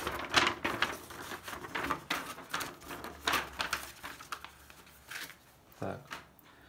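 Ordinary paper packed in the box of a be quiet! System Power 9 power supply is handled up close, giving irregular bursts of crisp rustling and crinkling while a voice speaks.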